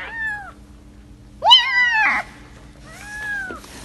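Several cats meow in turn, three distinct drawn-out cries with pauses between, the middle one loudest and rising into a strained wail, close and clear against a quiet background.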